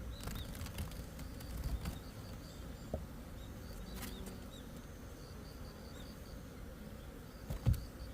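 Honeybees buzz faintly around a small mating hive in a bee yard, a thin, continuous hum with a few soft knocks and no voices.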